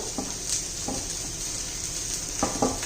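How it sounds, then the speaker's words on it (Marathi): Chopped onion sautés in a pan with a steady low sizzle, broken by a few soft spoon scrapes and clinks against the pan. "कांदा परतून घेते मी आता कांदा होत आलेला आहे"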